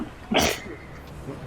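A single sharp sneeze bursts out, close and loud, then quiet room tone follows.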